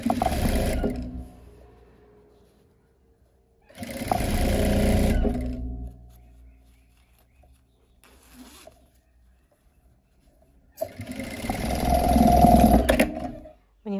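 A sewing machine runs a straight seam on a zippered pencil case, in three loud bursts of steady mechanical whirring and needle clatter, separated by quiet pauses.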